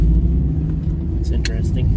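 A Subaru Baja engine struggling to idle on a winter drive gives a low, uneven rumble throughout, with people talking over it.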